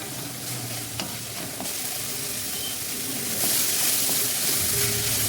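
Peas, carrots, ivy gourd and beans sautéing in a pan with onion and spice paste, a continuous close sizzle with stirring scrapes, the hiss swelling louder and steamier toward the end.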